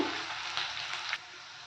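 Onions sautéing in sesame oil for Tamil garlic kuzhambu, a steady close broadband sizzle that holds evenly throughout with no talk.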